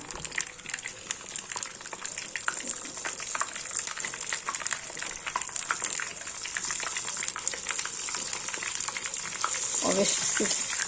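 Apple rolls fry in hot vegetable oil in a pan, a steady close sizzle and crackle with a bubbling spurt near the end, and a voice talks softly underneath.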